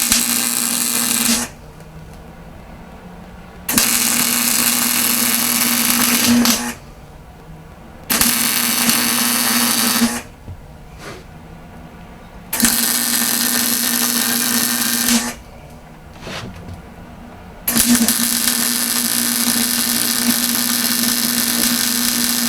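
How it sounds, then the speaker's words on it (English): A welder in a shop fires in several long bursts of loud, harsh, steady buzzing crackle, separated by quiet pauses, close and alone. "let me just get the welder out here and we'll fire it off"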